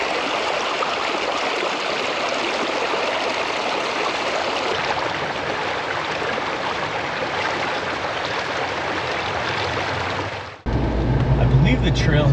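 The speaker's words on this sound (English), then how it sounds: "I think that's Nacimiento Creek or Nacimiento River flowing through it" Nacimiento Creek flows through a camping area near Big Sur on California's central coast, a steady broadband rush of water that fills the scene without pause, then shifts abruptly near the end to a lower rumbling tone.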